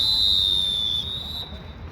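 A referee's whistle at a basketball game gives a single sustained, shrill blast lasting over a second, then cuts off over a low background of crowd and court noise.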